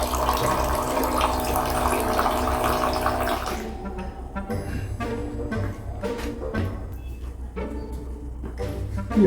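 Water running from a household tap into a glass for drinking, a steady rushing stream that then breaks into lighter splashing and trickling as the flow changes, close by with no talk.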